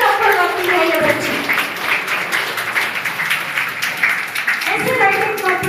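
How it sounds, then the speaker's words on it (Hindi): An audience at a school commemoration event at Khalsa Public Senior School claps in a full, sustained burst, with someone talking briefly before and after the applause. "आलिया हनीफ के लिए थोड़ी जोरदार तालियां हो"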